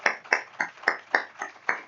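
A small audience applauds a woman at a 2019 university prize ceremony, with seven or eight distinct, evenly spaced hand claps in roughly 1.9 seconds, moderately loud and close.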